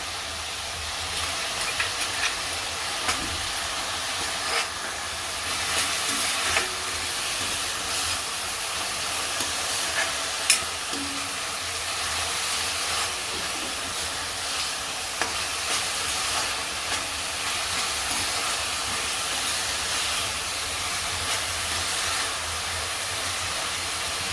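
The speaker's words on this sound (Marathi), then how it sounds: "कांदा परतताना आपल्याला हिरवी मिरची आणि लसूण घालायचं आहे" Onion with green chili and garlic sautés in a pan for a dill and moong dal dish, a steady, loud sizzle and hiss running throughout, with faint stirring scrapes and no voices.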